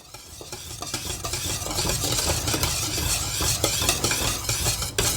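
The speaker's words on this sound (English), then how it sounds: "Go ahead and mix in the vanilla and the butter." Vanilla and butter being stirred into thick, hot butterscotch pudding in a pan, a close, busy scraping and bubbling that swells after the first second and keeps a steady churning rhythm without voices.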